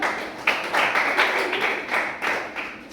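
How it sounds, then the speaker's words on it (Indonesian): Students in a school classroom clap for a group, a series of sharp, fairly close hand claps in a loose rhythm with brief gaps between bursts. "Pakai tepuk tangan untuk kelompok 1."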